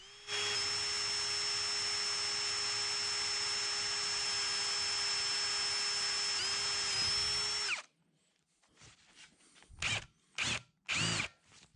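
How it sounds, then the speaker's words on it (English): A power drill bores a small pilot hole into an oil passage of a K&T milling machine saddle, one long steady high whine that stops abruptly, followed by several short bursts of drilling. "I'm starting with a smaller pilot hole."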